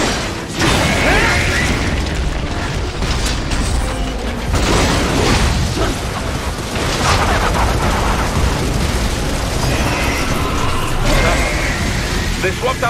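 Gunfire rings out during combat in the action video game Metal Gear Rising: Revengeance, loud and dense bursts of shots and mechanical clanks filling the whole stretch with a voice heard among them.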